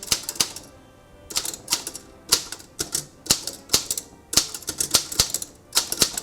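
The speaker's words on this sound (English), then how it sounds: "when I'm typing with one finger over here and pushing the carriage with my other hand" Manual typewriter keys clacking in uneven bursts, sharp metallic strikes in quick clusters with short pauses between, close and loud, no voices.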